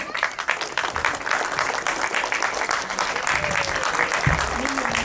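Audience applause at a Tamil fan event in Dubai for the film Tourist Family, steady crowd clapping filling the hall throughout, with a voice talking faintly underneath.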